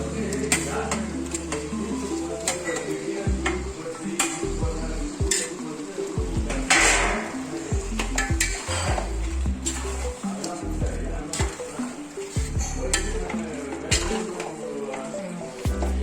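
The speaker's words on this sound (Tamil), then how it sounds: "எடுத்து வச்ச 1 கிலோ மட்டனை இதுல போட்டுடலாம்" One kilo of mutton sizzles in a pan for Trichy dum biryani, a continuous frying crackle with scattered clinks of utensil on metal and a voice talking over parts of it, with faint background music.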